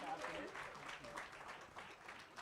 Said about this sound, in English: One more time, round of applause, ladies and gentlemen.